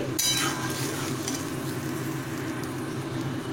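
Spice masala stirred and frying in a hot pan while cooking a paneer dish, a steady close sizzle with scraping stir strokes and a brief clatter of utensils near the start, no talk.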